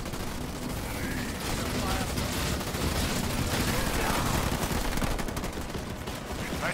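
Dense, continuous crackle of turret fire in the strategy game Halo Wars 2, a thick wash of overlapping shots with battle noise layered in and faint voices mixed in beneath.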